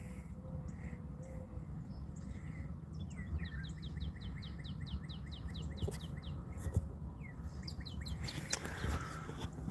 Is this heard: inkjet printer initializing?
no